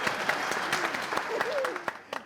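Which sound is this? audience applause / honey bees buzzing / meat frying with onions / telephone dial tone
audience applause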